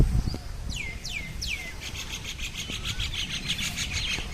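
Birds chirping outdoors, koel calls among them: several rising whistled calls repeat in a row, followed by a dense run of high chirps, all over a steady low outdoor rumble with no talk.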